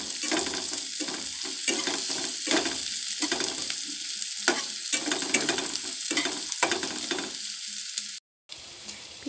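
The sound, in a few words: stirring onions frying in a pan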